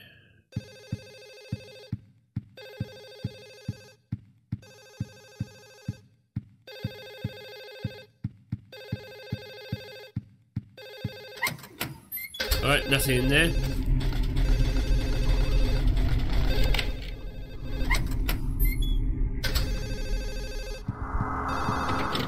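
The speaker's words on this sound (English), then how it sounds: "It's not that phone that's ringing." Telephone ringing in Silent Hill 4: The Room, a repeating electronic ring in regular bursts for about twelve seconds, then dense ambient noise takes over while someone speaks briefly.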